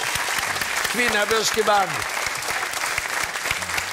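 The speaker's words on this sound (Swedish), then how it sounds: "En stor applåd till er." A television bingo show audience applauds a band in a steady, loud wash of clapping. A voice speaks over the middle of it.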